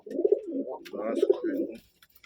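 Pigeons sold as a pair coo close by, two rounded throaty coos in quick succession, loud and clear with no other sound.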